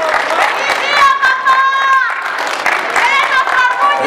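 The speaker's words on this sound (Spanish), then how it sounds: "¡Que den el aplauso a la familia!" A crowd at a jaripeo event in Chicolopan applauds and cheers loudly, sustained clapping and shouts filling the space with whistle-like tones over it.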